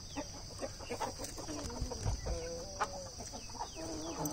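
Chickens cluck and chatter close by in a farmyard, a busy overlapping run of short calls against a steady background hiss.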